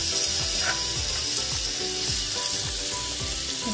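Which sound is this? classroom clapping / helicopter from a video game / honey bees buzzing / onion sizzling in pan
onion sizzling in pan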